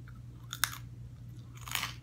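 Crunchy, crispy Tofurky broccoli and cheddar pockets, slightly overcooked, being chewed up close in two quiet crunching bursts over a low steady hum.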